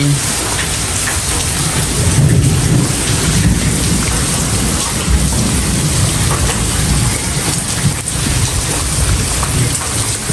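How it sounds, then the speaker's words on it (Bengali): Heavy rain pours steadily over a village homestead yard while thunder rumbles low beneath it, a loud, unbroken wash of sound with no voices. "দেখেন কি পরিমাণ বৃষ্টি"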